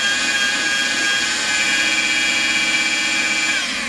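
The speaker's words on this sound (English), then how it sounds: "Again, about 1500 RPM. Just going to shake off a lot of the lint." A pad washer spins a damp buffing pad at about 1500 RPM to shake off lint, giving a loud, steady mechanical whir and whine up close.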